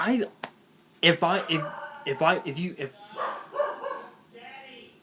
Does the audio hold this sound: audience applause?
no